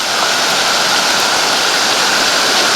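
Rushing water of a creek flows steadily and loudly, a close, constant broadband wash like a fast creek tumbling over rocks, near Upper Lena Lake.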